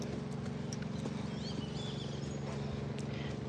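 A large carriage horse, a jumper over 19 hands with a docked tail, walking at a barn, its hooves clip-clopping in a steady close rhythm over a low background hum with faint bird chirps.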